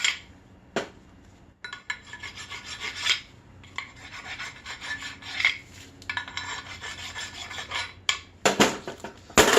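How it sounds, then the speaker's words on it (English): A metal hand file rasps rust off front brake parts on a Chevy Equinox / GMC Terrain, with bursts of scraping strokes separated by short pauses and clinks of metal, close and fairly loud. "get rid of any rust that's here"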